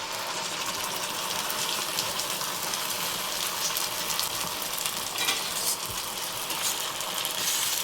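A spice paste of ginger, garlic, tomato, capsicum, green chili and onion sautés in a pan for chicken, a continuous loud sizzle and frying hiss with occasional stirring scrapes and no voices.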